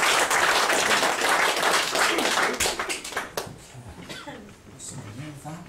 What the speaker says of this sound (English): Give him a round of applause as he makes his best work.